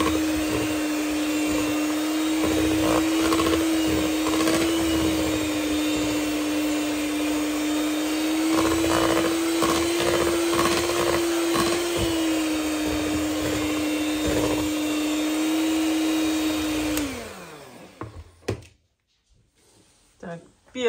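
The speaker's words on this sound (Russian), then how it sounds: "Взбить миксером яйца и сахар." An electric hand mixer whisks eggs and sugar in a home kitchen, a steady high motor whine running for about seventeen seconds under talk before it switches off and winds down, followed by faint clatter.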